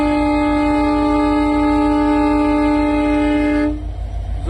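Avadh Assam Express train sounding a loud, sustained horn up close for several seconds, then cutting off, leaving the rumble of the passing train.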